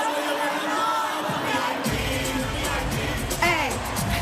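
Concert crowd at a show, played back from a phone, roars and screams as a dense, continuous wall of cheering with shrill voices rising above it, fairly loud and slightly distorted.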